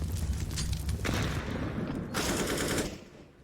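Counter-Strike gunfire on the Inferno map rattles in dense rapid bursts alongside a frag grenade blast, a continuous loud barrage of shots filling the whole moment.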